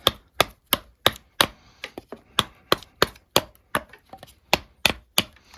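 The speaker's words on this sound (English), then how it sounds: "let's try some light chopping with it" Sharp, rapid chops of a light-bladed HX Outdoors Rock Classic survival knife into wood, about two strikes per second, loud and close with short cracks and a brief pause midway.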